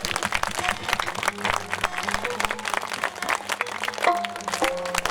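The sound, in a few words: audience applause at a religious storytelling event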